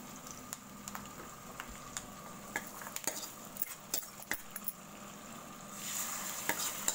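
Garlic sautés in a pan for a banana stem sambar, with a soft, low sizzle under frequent sharp spoon scrapes and taps against the pan, the frying hiss swelling slightly near the end.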